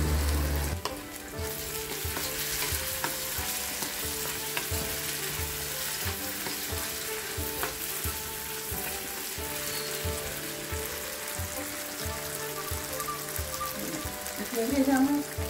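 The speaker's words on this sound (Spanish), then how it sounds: "dejamos que se sofrían un poquito las verduras, las que son un poquito más duritas, para poner el resto" Firmer vegetables sauté in a pan for gardener rice, a dense continuous sizzle like light rain on a surface, with faint stirring and a low hum underneath, steady throughout.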